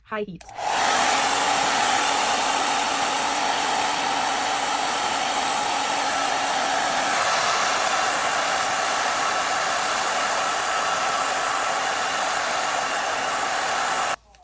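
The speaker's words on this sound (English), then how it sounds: "Now we're going to use our blow dryer with the same steel comb on high heat." A hair dryer on high heat roars at full power, a steady loud whoosh that starts abruptly and runs continuously before cutting off, used with a steel comb.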